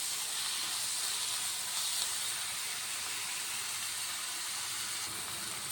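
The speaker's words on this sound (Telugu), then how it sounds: "ఇప్పుడు ఆనియన్స్ కొంచెం ఫ్రై అయ్యాయి కదా" Salted onions fry in a pan for an Indian-style fish curry, a soft, even hiss of sizzling that runs steadily at low volume.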